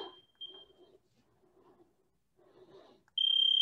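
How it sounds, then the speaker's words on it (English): Electronic timer alarm at a junior youth endurance fitness class, a faint single beep early on, then a loud sustained high-pitched beeping tone cutting in at the end over quiet room noise. "Oh, that's the wrong timer, Junxian."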